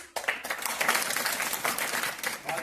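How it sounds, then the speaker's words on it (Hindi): Students in an English demo class clap together in a burst of dense, moderately loud applause that starts abruptly and carries on steadily before tapering slightly. "तो एक बार आप ताली बजाएंगे।"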